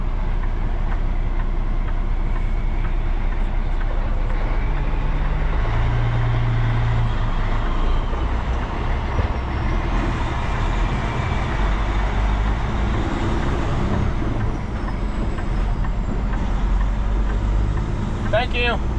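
A vehicle drives along a street during Hurricane Milton cleanup, its engine and road rumble a steady low drone heard from inside for the whole stretch, with faint voices now and then.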